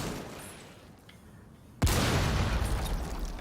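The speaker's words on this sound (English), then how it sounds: "Grenades going off as pressure being applied." In an esports shooter match, a sudden loud blast from grenades going off breaks a quieter stretch, leaving a dense, sustained rumble of explosive noise.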